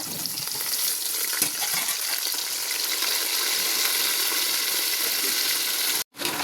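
Onion, green chili and tomato sauté in hot oil in a pan, giving a steady, close, dense sizzle with a few stirs. The frying hiss runs unbroken and clear of talk, then cuts out briefly near the end.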